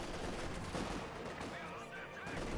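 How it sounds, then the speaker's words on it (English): Light machine gun fire from Grenadiers in the Company of Heroes 2 strategy game, dense continuous rattling bursts layered with battle noise, loud and unbroken throughout, with a few faint whistling tones. "Sections being absolutely powdered out in the open. The Grenadiers with light machine guns."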